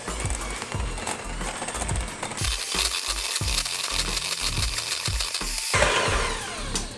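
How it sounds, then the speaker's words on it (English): An electric mixer works broccoli pizza dough, a running motor hum broken by regular heavy thumps and knocks as the dough slaps around the bowl. The sound is fairly close and continuous. "So we're gonna go ahead and use a mixer."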